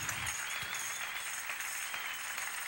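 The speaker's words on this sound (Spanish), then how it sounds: "Denle un aplauso grande al Señor" Congregation applauding at an evangelical church service, a steady, dense wash of clapping that fills the whole moment without pause.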